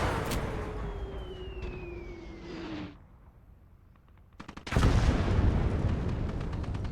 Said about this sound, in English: That mortar is very inaccurate, but that shell, if that thing hits directly on, yikes.